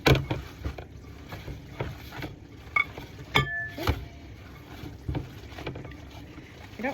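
Meatloaf mixture gets mixed by hand in a bowl in a home kitchen, with irregular soft squelches and occasional light clinks against the dish, fairly quiet and close.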